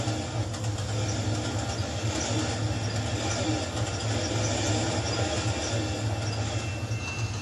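A long freight train rolls past at moderate distance, giving a continuous rumbling drone with faint wheel clatter and occasional squeal, steady from start to finish.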